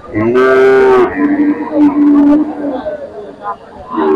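A cow moos loudly at a rural cattle market in Faridpur, one long harmonic call followed by a second lower drawn-out moo, with crowd chatter and market hubbub around it.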